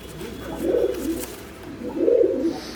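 Racing pigeons coo close by, two soft, rolling bursts about a second apart over a quiet background, with no talking.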